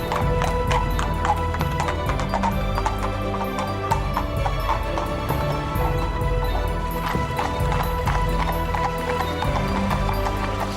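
Horses clip-clop at a steady, brisk pace on a hard surface, the hoofbeats close and continuous, mixed with faint background music and little talk.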